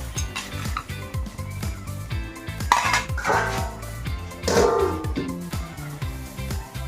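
A spoon stirs and scrapes a pot of tomato chutney with raisins and rock sugar, giving a steady run of close clinks and knocks against the metal, with a few louder clanks as the pot is handled and covered.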